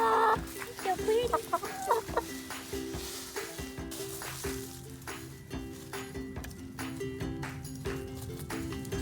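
Backyard pet chickens cluck and murmur close by, with short repeated clucks and a brief rising call early on over a steady background hum, the calls growing sparser toward the end.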